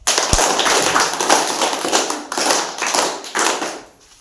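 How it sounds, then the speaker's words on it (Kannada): Schoolchildren at a government school in Paduvagere clap loudly together, a dense burst of applause that swells in rhythmic waves before dying away. "ಜೋರಾಗಿ ಚಪ್ಪಾಳೆ."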